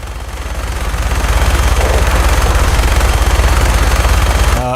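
Sustained rapid automatic gunfire in Fallout 4, a dense, loud, continuous fusillade with a steady rhythmic pulse holding for the whole stretch.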